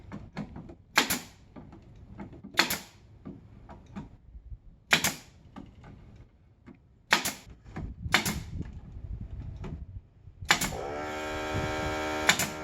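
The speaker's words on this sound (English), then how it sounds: "There, the air compressor kicked on." An air compressor kicks on after a series of sharp nail-gun shots driving 1.5 inch 18 gauge brads into wooden chicken nesting boxes, its steady motor hum and rattle running loudly to the end.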